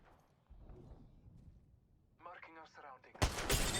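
A Kraber sniper rifle firing in the video game Apex Legends, one sharp loud blast near the end after faint background rumble and a brief voice.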